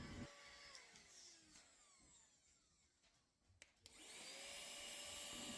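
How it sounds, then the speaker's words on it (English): A handheld vacuum cleaner runs with a steady motor whine and airy rush. It drops away briefly near the middle, then returns strongly and holds to the end. It sounds fairly close, with no talking. "I highly recommend this handheld vacuum."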